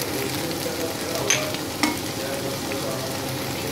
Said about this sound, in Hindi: अभी गोल्डन ब्राउन होने तक इसे और फ्राई करेंगे।